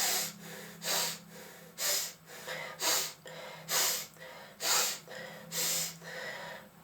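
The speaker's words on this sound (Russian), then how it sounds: "Вдох резкий через носик" Nine sharp, rhythmic nasal sniffs spaced about a second apart, close and clear against quiet background, as in Strelnikova breathing exercises with quick inhalations through the nose.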